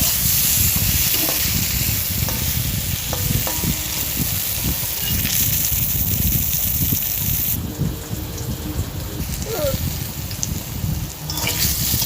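A thin Bengali fish curry of bata fish with green banana simmers in an uncovered pot and gets stirred, giving a steady close sizzle and bubbling with soft scraping strokes throughout; a voice talks faintly in the background.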